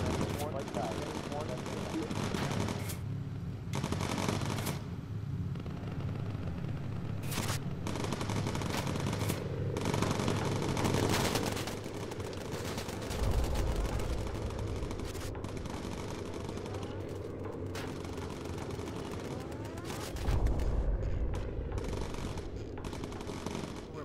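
Machine-gun fire from a plane's gunner seat in a video game rattles in repeated loud bursts across the stretch, with voices talking over the gunfire.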